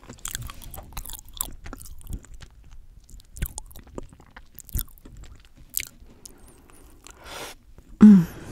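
A Crumbl double fudge brownie with chocolate chips is chewed close to the mic in quiet ASMR style, with soft, irregular bites and sticky crunches. One louder thump or mouth sound comes near the end.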